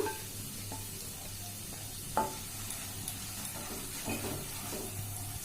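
Spices with a little turmeric and Kashmiri chili powder fry in a pan for paneer masala, a soft, steady sizzle with occasional stirring scrapes, faint and without talk.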